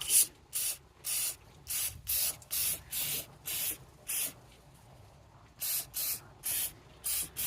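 WINSO carburetor cleaner sprayed from an aerosol can through a thin extension tube, coming as about a dozen short hissing bursts in a steady rhythm with brief gaps between them, fairly quiet and close, with no talk.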